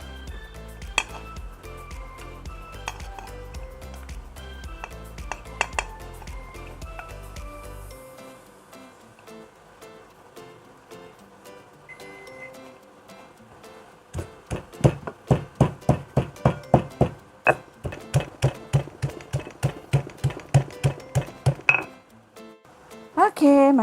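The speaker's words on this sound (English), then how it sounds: "I'm gonna mix with all the ingredients. I'll pound it together." Spice ingredients, including turmeric for a durian catfish sagak, pounded together by hand, starting with scattered clinks and knocks, then settling into a loud, steady run of rhythmic strikes near the end.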